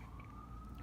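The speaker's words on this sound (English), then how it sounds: "You can probably hear the sirens in the background." A faint, steady siren tone rises from a distance outside in a city over low traffic rumble.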